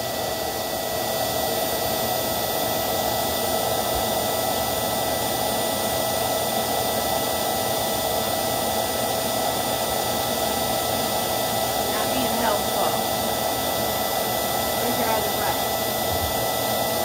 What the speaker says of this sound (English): This is why I like the vacuum.